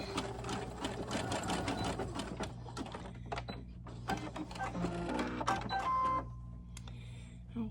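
A sewing machine stitches T-shirt fabric for an 18-inch doll, running in steady mechanical bursts close up, briefly pausing and restarting, with faint clatter and no talk.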